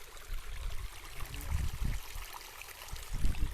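Water runs steadily through a farm field's outlet used to control the water level, a continuous low gurgling flow heard up close without speech.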